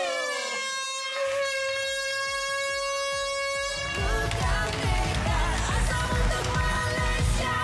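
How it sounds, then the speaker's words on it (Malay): An air horn sounded to launch the Keluarga Malaysia convoy squad gives one loud, sustained blast of about four seconds, followed by a burst of busy, noisy crowd and vehicle activity. "akan membunyikan hon udara dengan kiraan 3, 2, 1"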